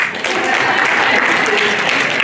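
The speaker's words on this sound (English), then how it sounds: "Haters, please clap" An audience at a regional workshop on positive masculinity claps steadily and loudly throughout, a dense, continuous crowd applause.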